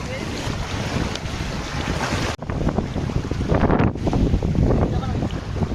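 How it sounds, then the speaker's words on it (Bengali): Wind-driven waves on Bhatra Bil lake in Malda, with heavy wind buffeting over a steady broadband wash of water; a brief dropout near the middle, then the surf and gusts return louder. "তো ঢেউগুলো একবার দেখো কি রকম লাগছে"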